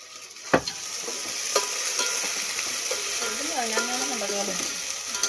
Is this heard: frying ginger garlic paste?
yes